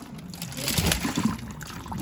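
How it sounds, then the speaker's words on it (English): Water left from cooking a ham is poured into a kitchen sink, a soft splashing, trickling stream that swells and then eases over about two seconds. "I'm about to go ahead and pour that out in the sink"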